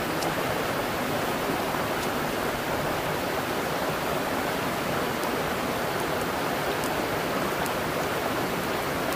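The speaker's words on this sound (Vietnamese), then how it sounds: "Chiều chiều lại mưa ta." Afternoon rain falling outdoors, a dense, even hiss of steady rainfall that holds unbroken for the whole stretch, with no voices over it.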